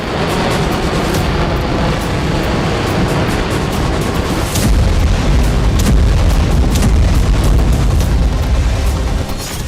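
Heavy, continuous rumbling blasts and booms from Russian Iskander missile strikes in Ukraine, with a deeper, louder roll of explosions building in the second half, dense and loud throughout.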